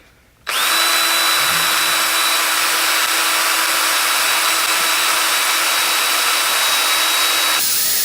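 A power drill boring a starter hole runs at high, steady speed for about seven seconds after a sudden start, loud and close, with no talking.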